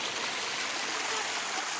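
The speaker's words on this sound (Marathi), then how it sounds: "सगळं असं पाणी आहे, वाहतं पाणी" Steady broadband rush of flowing water at Kalmandavi waterfall, a continuous even wash with no breaks, no voices over it.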